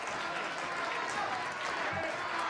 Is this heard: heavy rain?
no